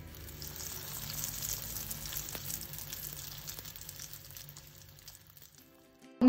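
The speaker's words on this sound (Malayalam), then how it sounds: "ഇനി ബാക്കിയുള്ളതും ഇതുപോലെ ഫ്രൈ ചെയ്തെടുക്കാം." Potato chutney bombs deep-frying in hot oil give a steady, soft sizzle and crackle that fades gradually toward the end, heard alone without talk.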